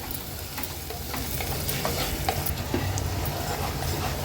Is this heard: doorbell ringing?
no